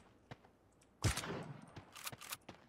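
Gunfire in the video game Sausage Man: a sharp burst of shots breaks out after a quiet stretch, followed by several more scattered bangs and a few softer clicks, fairly loud and close with no talking.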